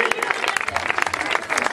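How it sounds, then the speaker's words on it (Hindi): Crowd applause at an Easter church program in Sialkot: dense, continuous clapping from many hands with voices mixed in underneath. "जोरदार तालियां बजा रहे हैं"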